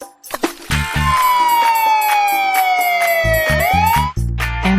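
A cartoon fire truck's siren wails loudly and steadily, its pitch slowly falling and then sweeping back up, with clattering music beats underneath.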